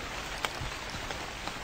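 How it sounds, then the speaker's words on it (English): Steady rain in The Convenience Store horror game, a continuous soft hiss of drops falling on surfaces with a few faint taps standing out, no voices. "Fucking rain."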